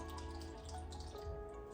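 Coconut water pours into a jar already holding blueberry juice for a homemade sugar-free sports drink, giving a steady, close liquid trickle and drip over a low background hum.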